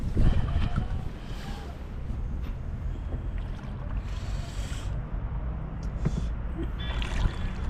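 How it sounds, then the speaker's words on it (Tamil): A wooden shikara rowboat glides across Dal Lake in Kashmir. Soft water lapping and occasional paddle splashes sit under steady wind, all faint and fairly distant. "ஆயிரரூவா கொடுத்து நானும் அப்படியே என்ஜாய் பண்ணிகிட்ருக்கேன் சிக்காரா ரைடு"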